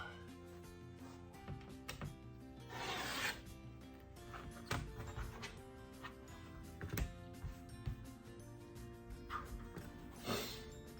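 Fabric strips are cut for quilting, heard as quiet, close rubbing and scraping of cloth with a few soft sharper cuts and handling noises spread across the stretch, with no talking.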